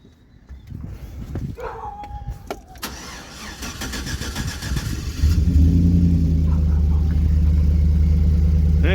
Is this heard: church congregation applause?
no